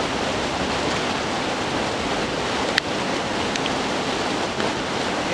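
A river cascade or waterfall rushes continuously outdoors, a loud, even broadband roar of falling and flowing water with a couple of faint clicks.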